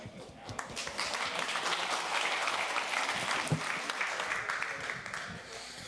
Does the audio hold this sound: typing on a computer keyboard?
no